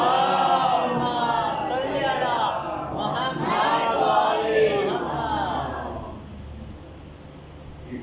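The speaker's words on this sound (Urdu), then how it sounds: "بآواز بلند نعرے سلوات" A large mourning congregation at a Muharram majlis loudly chants salawat in unison, a swelling mass of voices that rises and then slowly fades.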